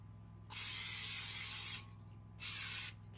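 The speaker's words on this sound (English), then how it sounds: "Spray your bowl." Cooking spray hissing into a clean bowl in a home kitchen while making bread dough, two close, steady bursts, the first lasting over a second and the second shorter, each broadband and loud against near silence.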